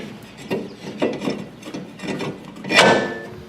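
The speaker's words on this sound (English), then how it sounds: "So we'll put on our rotor." A brake rotor is slid onto the rear wheel hub of a Ford Explorer, giving a series of close metallic scrapes and knocks with one louder clunk near the end, and no talk.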